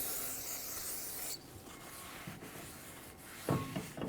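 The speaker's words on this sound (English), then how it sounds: "we want to clean the braking surface as well as the parking brake shoe surface with brake parts cleaner and a clean rag" Rag scrubbing a Hyundai Santa Fe rear brake rotor and parking brake shoe surface with brake parts cleaner to strip oil, a close, steady rubbing and wiping with short pauses and a sharper swipe near the end.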